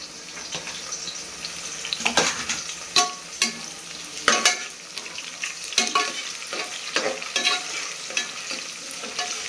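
Onion and a single tomato sauté in oil until golden, giving a continuous close sizzle broken by repeated sharp scrapes and knocks of a spoon stirring the pan, with no one speaking.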